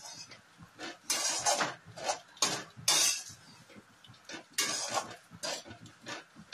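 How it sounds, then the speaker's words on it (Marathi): Phagond mixture being sautéed in a pan with a spoon, bursts of scraping, stirring and clinking against metal in irregular strokes, close and fairly loud with quiet gaps between. "आता आपण हे परतवून घेऊया चांगलं."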